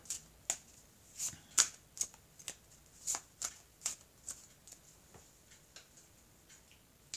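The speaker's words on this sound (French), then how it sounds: "on va couper le jeu et on va recouvrir les cartes" Oracle cards being shuffled and cut by hand, a steady run of crisp riffling snaps and soft card slaps at irregular intervals, close and fairly quiet with no talking.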